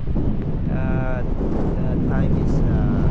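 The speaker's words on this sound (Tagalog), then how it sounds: "sobrang hangin dito ngayon" Strong gusts of wind buffet the microphone at a beach resort, a loud low rumbling roar throughout, with a voice faintly audible beneath it.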